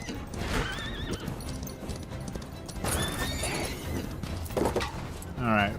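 Horse in the Far Far West video game galloping with clip-clop hoofbeats and letting out several loud, wavering neighs, including a sharp whinny at the end, with a voice talking over parts of it.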